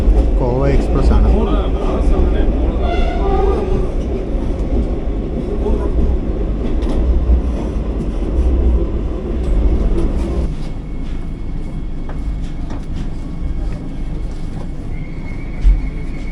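The Kovai Express, train 30436, rumbles past close by in a loud, steady roar of wheels and carriages that eases slightly toward the end, with faint voices mixed into the din.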